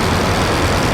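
Nieuport 17 biplane engine running at 1400 RPM in Rise of Flight, a steady, loud, low rotary drone with no breaks or other sounds.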